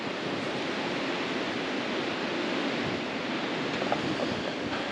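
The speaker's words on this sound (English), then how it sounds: "The wind is really, really something." Strong gusting wind roars steadily outdoors near horses and trees as a storm approaches, a loud broadband rush with slight surges and no pause throughout.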